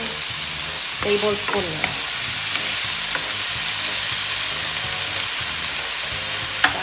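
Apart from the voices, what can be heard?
soy sauce added to bitter gourd sauté, sizzling in pan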